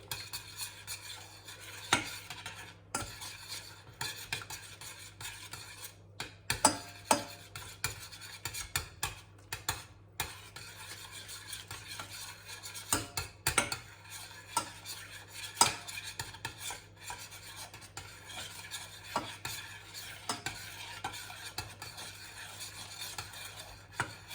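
A utensil stirs and scrapes in a pan of butter sauce for salmon en papillote, making soft irregular clinks and scraping strokes over faint sizzling, with no talking.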